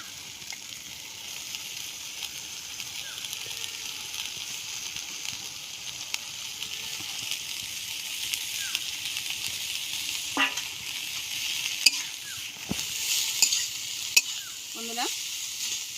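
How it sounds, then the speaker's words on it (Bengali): Cabbage sizzles quietly in hot spiced oil with a steady soft frying hiss, while a few scraping stirs and clinks of the spatula against the pan come near the end. "এখন দিয়ে দেবো বাঁধাকপি।"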